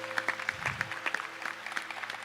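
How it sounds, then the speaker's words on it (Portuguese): Audience applause in a church service at Canção Nova, a burst of many hands clapping in quick irregular patter for a couple of seconds, close and fairly loud. "Pode aplaudir a palavra."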